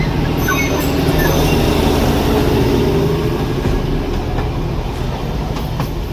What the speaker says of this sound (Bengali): এই যে দার্জিলিংয়ের টয় ট্রেন